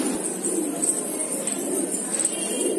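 A pair of Deobandi pigeons, an old pure breed, close by outdoors at release, with soft pigeon cooing under a steady background hum and a few faint, brief flutters.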